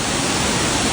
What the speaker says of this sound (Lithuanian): Va, koks gražus krioklys.